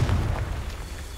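A Confringo blasting curse goes off in Hogwarts Legacy as a single loud, close boom that decays into a low rumble, with no voices.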